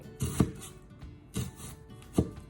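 An onion is sliced very thinly with a knife on a board for vegan cucumber kimchi: three crisp, close cuts spaced roughly a second apart, with no voices.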